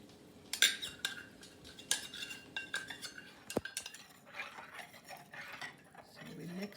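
A spoon clinks and scrapes against a bowl while stirring a sauce mixture of sugar, vinegar and cornstarch, with quiet, irregular metallic taps and swishes up close.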